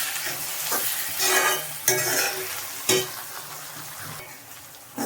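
Onions and chicken frying in a pan for a chicken curry, with a steady sizzle under repeated scraping strokes of a spoon stirring, several louder clanks against the pan, close and without talk.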